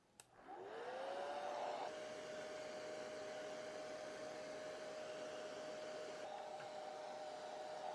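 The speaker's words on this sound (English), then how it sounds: "can we blow dry our beards? Stole my wife's hair dryer." A hair dryer powered by an EcoFlow River 3 portable power station whirs up and runs steadily with a constant high whine over broadband airflow noise, loud and close, with no talking.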